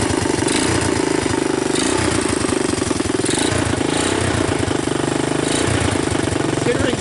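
A trashed, abandoned Honda TRX 200 ATV engine runs after being revived, a loud continuous rough chugging idle close by with an uneven pulsing rhythm.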